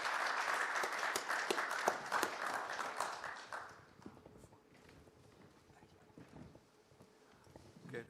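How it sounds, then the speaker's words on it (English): Conference audience applauds a panel after a discussion on sustainable asset management, a loud sustained round of clapping that fades out after about four seconds, leaving a quiet room with faint rustle. "can we give the panel a round of applause?"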